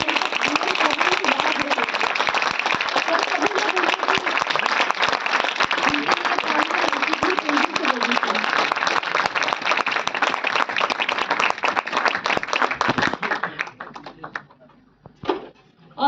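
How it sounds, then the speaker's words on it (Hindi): Sustained, dense applause from an audience at a university farewell ceremony for a professor, loud and continuous for about thirteen seconds before it quickly dies away, leaving a few scattered claps. "तालियों की आवाज"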